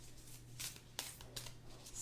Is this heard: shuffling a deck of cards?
yes